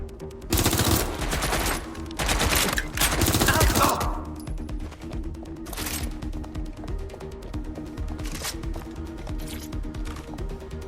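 Gunfire in the video game Watch Dogs: Legion, with dense bursts of rapid shots in the first few seconds and scattered single shots after, mixed with game noise and some talk.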